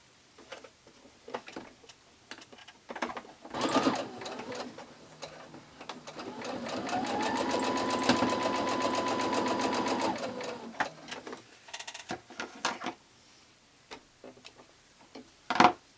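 Sewing machine chain piecing quilt strips for a mini quilt, a rapid mechanical ticking hum that runs steadily for several seconds, bracketed by shorter bursts and clicks of fabric handling, close up and clear.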